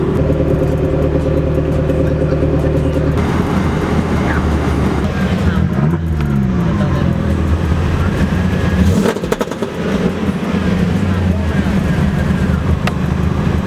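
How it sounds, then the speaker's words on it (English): A car doing pulls in a parking lot at a night car meet, its engine droning and revving up through shifting tones with people talking in the background. "This guy's doing pulls in the parking lot"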